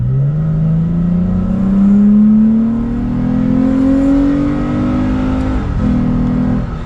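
A Toyota Tacoma engine fitted with an Injen cold air intake revs up steadily as it accelerates, its deep drone climbing in pitch, then briefly dips as it shifts before pulling again.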